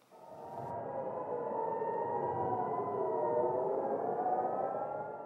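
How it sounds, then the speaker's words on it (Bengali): Civil defense air raid sirens wail in Beit Hillel, a town in northern Israel, as a sustained, steady rising tone that holds loud and alone for several seconds. "সাইরেন ও রকেটের শব্দে কেঁপে উঠছে ইসরায়েলের উত্তরাঞ্চলের বেইট হিল্ল শহর"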